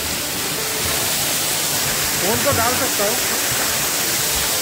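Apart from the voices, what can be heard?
Jirikinding waterfall, loud water pouring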